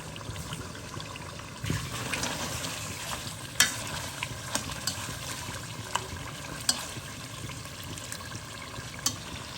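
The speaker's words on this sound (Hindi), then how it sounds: "गोश्त भून लिया।" Meat frying in a pan for Pakistani palak gosht spinach curry, a soft steady sizzle with occasional stirring clinks and scrapes, fairly quiet and without talk.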